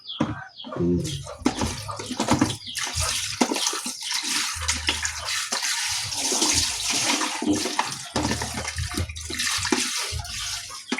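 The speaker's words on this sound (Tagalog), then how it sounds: "Ngayon, banlawan natin." Green papaya rinsed under running tap water, a splashing, gurgling stream with uneven bursts and sloshing as the pieces are handled, close and fairly loud, no talking.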